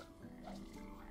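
Frogs croaking in the video game Papo & Yo, a soft, low, warbling croak heard faintly in the game's ambience, with no voices.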